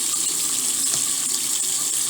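Water squeezed out of a wet makeup brush's bristles, a steady close watery rush and trickle that runs unbroken, with no voices.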